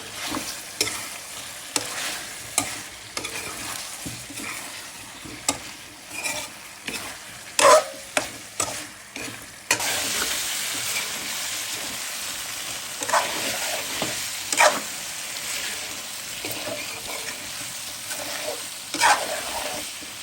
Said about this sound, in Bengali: কয়েকটা গোটা রসুন দিয়ে দিতেছি। একসাথে কষিয়ে নেবো